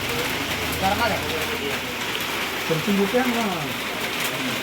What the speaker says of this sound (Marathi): पाऊस पण फार चालू आहे हा बघा पाऊस पण आला आहे